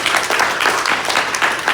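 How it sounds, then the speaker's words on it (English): Audience at a Kupu Corps presentation event clapping steadily together, a dense, close wash of applause with no voices over it. "Let's get a round of applause one more time for all of our presentations"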